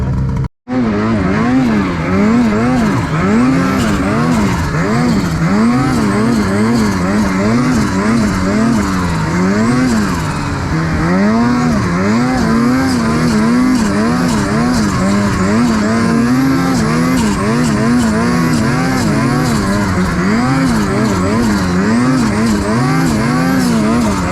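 A snowmobile engine runs continuously while the sled rides over snow, its loud drone revving up and down in wavering surges from start to finish with no voices.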